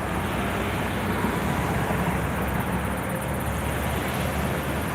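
A Flight For Life medical helicopter on the ground at a landing site on Highway 85 near Fort Lupton, its engine and rotor making a loud, steady, broadband roar that holds evenly throughout with no voices.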